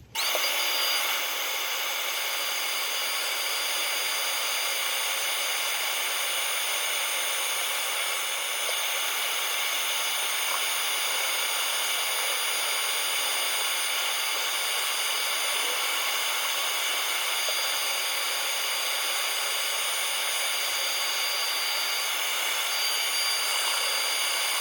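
A wooden piece with a sulphur inlay is sanded as it spins on a lathe, giving a steady, unbroken hiss and whir that runs at an even level with no talking.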